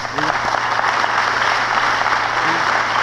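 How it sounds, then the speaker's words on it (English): A university audience at a live 1968 speech in Syracuse claps in a dense, even burst of applause, loud and close, with some voices mixed into the crowd noise. "you shouldn't clap for that"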